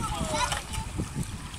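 Water splashing as someone wades through shallow sea water at a beach, with uneven sloshing throughout and a voice talking over it.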